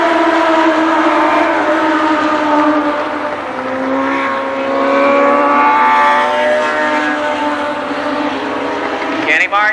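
Legends race cars circle Columbus Motor Speedway in a loud, continuous engine roar that rises and falls in pitch as cars pass, with a track announcer talking over it.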